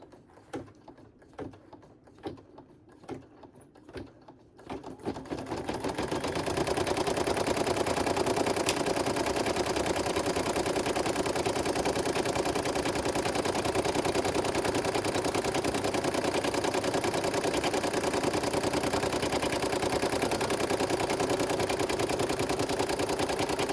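An embroidery machine stitching fabric onto stabilizer: a few sparse mechanical clicks, then a rapid, steady needle chatter starts and runs continuously at close range and fairly loud, with no talk.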